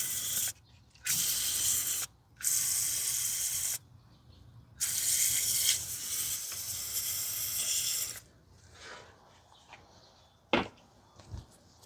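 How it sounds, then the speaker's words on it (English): Several bursts of loud hissing aerosol brake cleaner spray around a Toyota 2GR-FE 3.5 V6 engine's spark plug area, each a second or more with short pauses, followed by quieter clinks and a couple of sharp taps. "Spray a little bit of brake cleaner in there to clean it up."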